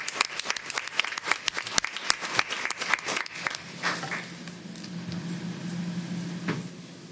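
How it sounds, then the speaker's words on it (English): An audience at a school board of education meeting applauds a student athlete, with a burst of brisk clapping that fades out after a few seconds into quiet room noise and a low hum. "Let's give him another round of applause."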